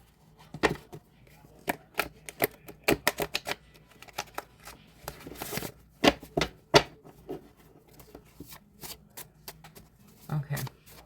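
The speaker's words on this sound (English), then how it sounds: "Just shuffling the deck so you guys know that it's shuffled." A deck of tarot cards is shuffled close up in a run of irregular crisp riffles and soft slaps, with brief pauses between bursts.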